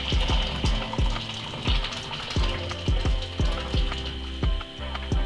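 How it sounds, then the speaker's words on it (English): One litre of just-boiled water is poured into a container, a steady rushing pour with rhythmic glugging pulses throughout, close and fairly loud. "Now in goes my 1 litre of boiled water."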